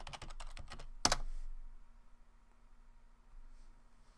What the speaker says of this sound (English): You need to enter your password.